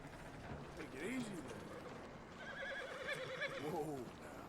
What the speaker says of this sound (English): Go get my horse, Common.